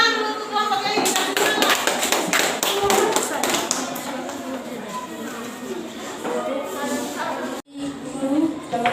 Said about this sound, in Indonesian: Tepuk tangan dulu untuk kelompoknya ini